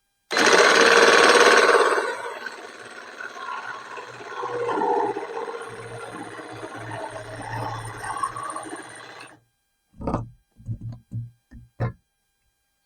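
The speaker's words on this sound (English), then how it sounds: "So we're just going to freehand cut this." A jigsaw freehand-cuts notches in wood, its loud, steady buzzing running for about nine seconds before stopping, followed by a few short knocks.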